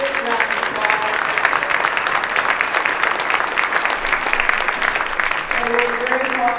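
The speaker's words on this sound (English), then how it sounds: "And please give me a big round of applause." Audience applause for APD staff at a community event, a dense steady clatter of many hands clapping throughout, fairly loud and close, with a voice briefly audible near the start and end.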